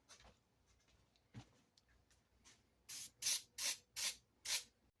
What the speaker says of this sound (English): what we're going to do is take the red spray, and I'm going to get his eyes